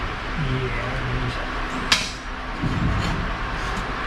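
A single sharp metallic hammer strike rings out on a part during a 4L80E transmission swap on a C-10 truck, heard against steady garage background noise.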